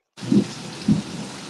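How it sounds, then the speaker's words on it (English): Two low thunder rumbles roll in during a rainstorm, each a short, muffled swell over a steady wash of falling rain. "Whoa, that sounds like rain."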